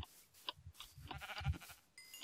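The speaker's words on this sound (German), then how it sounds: "Pass auf, da hinten sind Schafe, die können wir vielleicht gebrauchen" Sheep bleating in Minecraft with the Tekkit modpack, a few short game bleats spread across the moment over a low rumble of other game sounds, no talk.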